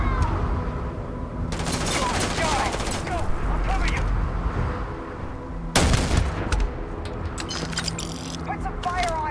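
Sustained automatic gunfire from the video game Starfield, with dense rattling bursts and a loud crack near the middle, while a voice talks over the shooting.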